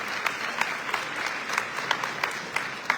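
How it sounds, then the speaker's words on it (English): A crowd at a Deepavali celebration applauds, a steady patter of clapping with a few sharper claps standing out, no voices over it. "Let's give the High Commissioner a big round of applause."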